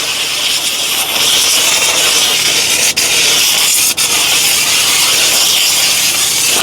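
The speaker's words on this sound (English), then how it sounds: "Steam your seat really quick." A steam cleaner sprays a loud, continuous hiss of steam onto a car seat close by, broken by two brief dropouts partway through.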